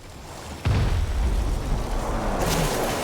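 In the Warframe video game, operator amp shots strike the Eidolon boss: a sudden loud, heavy boom erupts about two-thirds of a second in, followed by a sustained rumbling roar that carries on to the end.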